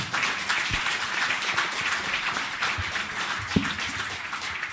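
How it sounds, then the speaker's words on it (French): Audience applause at a French marketing conference, a steady wash of many hands clapping that fills the whole stretch at even loudness, with no voices over it. "Je vous demande de les applaudir parce qu'ils ont été passionnants"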